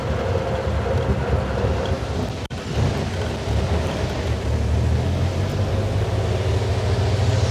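A 1953 retro car in Cuba rumbles steadily with a deep, continuous engine drone heard from close inside, broken by one brief dropout.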